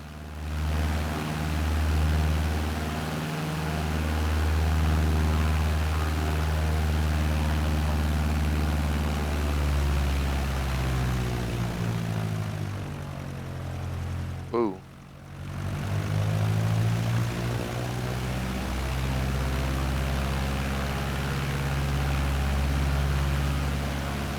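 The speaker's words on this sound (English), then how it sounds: "Trying to see if we can get the plane to turn around and take back off" A propeller airplane engine in Microsoft Flight Simulator drones loudly and steadily, dipping briefly mid-way as the throttle changes, then roaring back up; no talk is evident over it.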